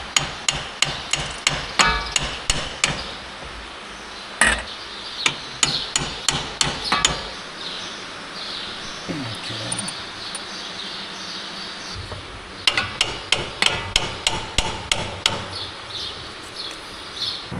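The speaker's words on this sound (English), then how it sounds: "so we need to hammer it down" Hammer blows strike a steel stripper plate outdoors in quick bursts of sharp metallic clanks, pausing for several quiet seconds with faint birdsong before another rapid run of strikes.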